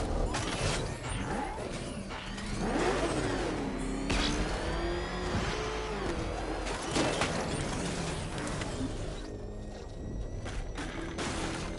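The Batmobile in Batman: Arkham Knight runs with a steady, fairly faint engine drone under mechanical clanks and game ambience. Pitch sweeps rise and fall as it revs.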